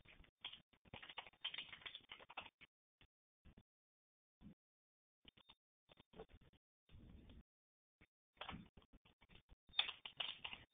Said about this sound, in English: So I'm entering my password now